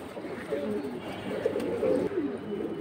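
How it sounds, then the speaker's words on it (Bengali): Red Patti pigeons coo in soft, low, rolling calls, fairly close and repeated over a faint background murmur. "লাল পাত্তি কবুতর।"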